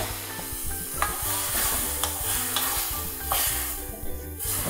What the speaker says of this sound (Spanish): Desde el primer momento que empezamos a saltear nuestros mariscos